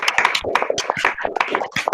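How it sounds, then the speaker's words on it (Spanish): A small group at an online photography conference on Argentine cameras claps into open microphones, producing scattered, uneven hand claps with distinct individual strikes rather than a smooth wash. "Pongan los micrófonos, por favor, para que se escuche el aplauso."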